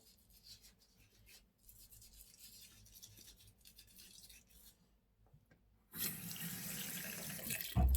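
A tap runs for rinsing with a sponge. Quiet rubbing and scrubbing come first, then the water gushes in suddenly near the end, strong and close.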